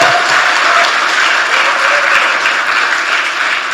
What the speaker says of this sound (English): Let's give a big applause for all of them.